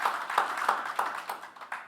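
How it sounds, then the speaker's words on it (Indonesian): Church congregation clapping their hands in steady rhythmic unison, each clap sharp and evenly spaced, heard at moderate distance without other sound. "yang setuju berikan tepuk tangan begitu Yesus"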